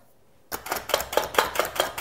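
Onions being chopped with a vegetable chopper, about seven sharp chopping strikes in a quick, fairly even rhythm after a short silence, close and clear.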